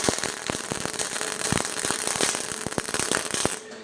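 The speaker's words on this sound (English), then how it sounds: "Too much wire speed, that crackling noise that you're getting" MIG welder run on sheet metal with too much wire speed, giving loud, dense, irregular crackling and popping pulses that continue steadily throughout.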